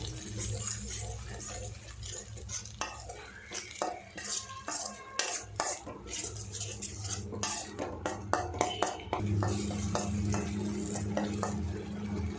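Onion paste is sautéed and stirred in a pan for a chicken dish, with quiet irregular scraping and clinking of a spoon against metal over a low, faint sizzle.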